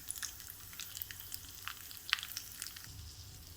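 Cashew nuts fry in a pan for boondi ladoo, giving a faint, soft sizzle with scattered light crackles and pops over a low steady hiss.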